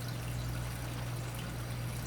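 Water from a 12-volt DC pump falls through polyfiber and splashes down through a bait tank shower screen, a steady close pouring and trickling wash with a low hum beneath, no talking.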